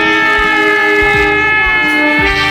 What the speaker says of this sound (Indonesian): Oh, kereta api.